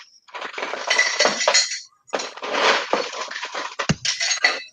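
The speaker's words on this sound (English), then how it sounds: "let me get a little ice for that" Ice cubes clatter and clink loudly into a glass for a bourbon cocktail, in two close, rattling bursts separated by a brief pause, with a sharp knock near the end.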